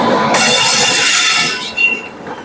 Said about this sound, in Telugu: ఇక్కడ ట్రైన్ వస్తుంది చూడండి